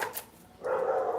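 A dog barks, with a short sharp yelp followed by a longer, louder whining bark that sounds moderately close.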